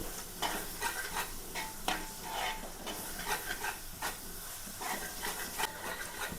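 Spice powder, pepper powder and garlic fry in a pan for a crab curry, a close, continuous sizzle broken by repeated scraping strokes of a spoon stirring the mixture.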